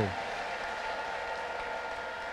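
A church congregation at a healing service claps and ululates together in a steady, dense wash of applause and high trilling cries, moderately loud, with a voice faintly underneath.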